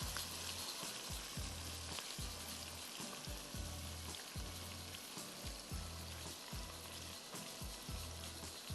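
Quiet, steady sizzling of ginger and garlic frying in a pan, with faint rhythmic scraping as it is stirred; no talking.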